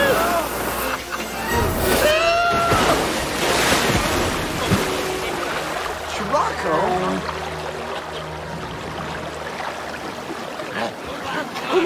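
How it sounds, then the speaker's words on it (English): Water and waves wash steadily in the 1997 film A Kid in Aladdin's Palace, a broad rushing surf sound with gusts of wind, heard under voices for most of the stretch. "Do you hear water?"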